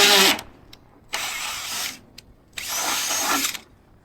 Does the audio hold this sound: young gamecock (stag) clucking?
no